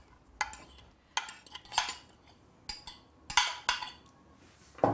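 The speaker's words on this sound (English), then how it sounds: "you just use a fork for stirring rice so that the grains don't clump together" A fork stirs and tumbles rice with nuts in a dish, giving several soft, separate scraping and clinking strokes close by, with quiet gaps between them and no talking.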